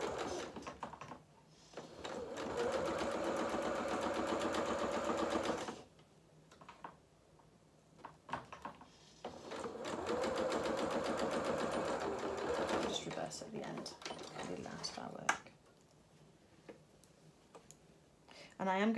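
A sewing machine runs two long bursts of steady stitching on a culottes seam, each several seconds of even rapid whirring, with quieter clicking and handling between them and a person talking over parts of it.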